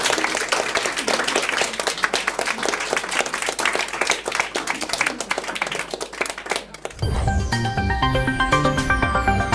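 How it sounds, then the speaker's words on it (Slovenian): An audience at a live authors' breakfast event applauds with dense, sustained clapping, followed by a swell of music as the applause carries on. "pa za en aplavz prosim, seveda."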